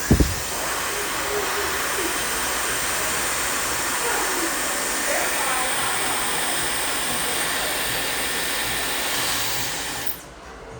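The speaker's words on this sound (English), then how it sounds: "or the blow dryer, but I'm not putting it on the hair" A hair dryer blows continuously and loudly for about ten seconds during a home blowout styling session, held steady without touching the hair, then cuts off abruptly near the end.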